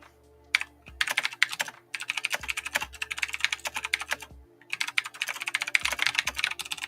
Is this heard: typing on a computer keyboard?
yes